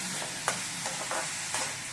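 Onions sautéing in a pan for a simple egg poriyal give a steady close sizzle, broken by a few sharp scraping stirs of a spoon against the pan.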